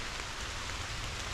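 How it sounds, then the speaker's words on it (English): Steady rain hisses continuously outdoors on Illinois public hunting land, a soft even wash of drops on surfaces with no voices. "It's just gonna be wet and nasty. Pretty much non-stop rain"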